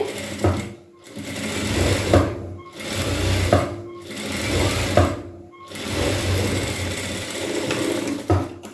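A sewing machine stitches blouse fabric during a tailoring lesson, running in steady whirring bursts broken by short pauses, close and loud with no talk.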